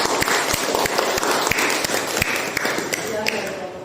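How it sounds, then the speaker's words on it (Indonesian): Applause in a classroom, a run of claps, some sharp and close, over a steady murmur of chatter for a few seconds. "Tepuk tangan."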